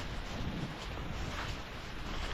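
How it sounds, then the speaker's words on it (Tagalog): Strong wind on a farm buffets the microphone with a low, rumbling, fluctuating roar that stays fairly quiet and continuous over a couple of seconds, with no voices. "Lakas ng hangin."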